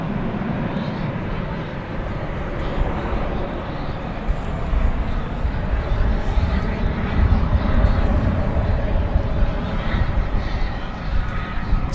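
A steady, loud roar of airliner jet engines at DFW Airport on an evening plane-spotting stream, continuous broadband rumble throughout with faint voices underneath.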